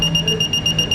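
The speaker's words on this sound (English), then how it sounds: "so the alarm will be activated." A home security system alarm, set off by an intruder's motion, sounds a steady electronic tone with high pitched harmonics, loud and continuous for the full second with no voices.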